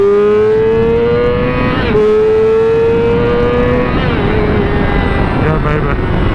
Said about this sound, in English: Look at the acceleration on this bitch.